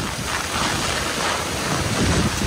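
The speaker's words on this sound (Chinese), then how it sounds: "这里呢在海边的这个风浪是相当的大" Strong typhoon wind and rough sea waves at a seaside ferry pier in Qijin, Kaohsiung, a continuous loud roar of gusting wind buffeting the microphone over crashing surf, with no talking.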